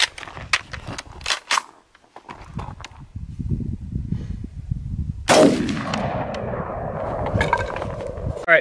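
An ACR rifle fires green tip 5.56 rounds at homemade body armor outdoors, with several sharp shots early on, then one loud report followed by a lingering ringing tail.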